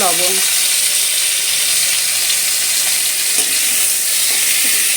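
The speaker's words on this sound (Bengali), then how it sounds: "লবণ দিয়ে ভালো করে আমটাকে একটু তেলের মধ্যে ভেজে নিতে হবে বা কষিয়ে নিতে হবে" Raw mango pieces frying in hot oil with salt give a steady, close, dense sizzle that holds loud through the whole stretch, with faint stirring scrapes and no speech.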